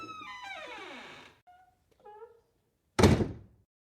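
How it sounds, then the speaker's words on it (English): A door sound effect plays inside a Sears store at a shopping mall: a short creaky squeal, a brief pause with a few small clicks, then a single loud, close thud as it shuts. "I even have a sound effect here for the door."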